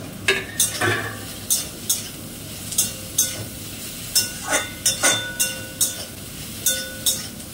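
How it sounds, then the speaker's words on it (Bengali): Sliced mushrooms frying with onion in a pan, a soft sizzle under repeated clinks and scrapes of a spatula stirring, close by with no talking. "মাশরুমটা ওই পেঁয়াজের সাথেই একটুখানি ভেজে নিচ্ছি।"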